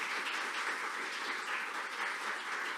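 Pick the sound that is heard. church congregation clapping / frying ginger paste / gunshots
church congregation clapping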